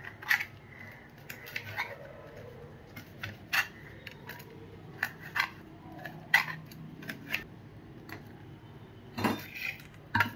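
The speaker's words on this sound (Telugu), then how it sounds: "ఈ తొక్కలు మనం ఏం చేయాలంటే చిన్న ముక్కలుగా కత్తిరి చేసుకోవాలి" Scissors cutting fruit peels into small pieces at home, giving a series of sharp, crisp snips at an irregular pace, close and clear over a quiet room.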